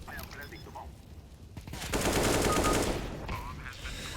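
A rapid burst of automatic gunfire from a game, loud and sustained for about a second, with quieter sounds before and after.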